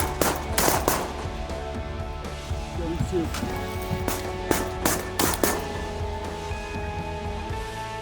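Shotgun blasts during a duck hunt in the field, several sharp reports in quick bursts near the start and middle, with a voice speaking briefly between them.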